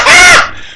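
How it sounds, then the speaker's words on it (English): A big black bird gives a single loud, harsh caw up close, the call cutting off sharply and trailing away in under a second. "A big black bird,"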